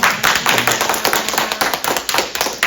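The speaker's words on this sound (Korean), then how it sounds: "피차 하나님께 감사드리는 박수 한번 해주십시오" A congregation at a Korean church's Wednesday worship service in Medford claps together in a dense, steady burst of applause, many hands at once, sustained for a few seconds with no talking.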